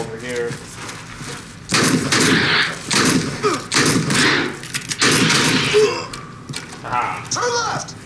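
Shotgun blasts in the Alien CM game at Hadley's Hope, several loud booming shots spaced a second or so apart, with a player talking and reacting between and over the firing.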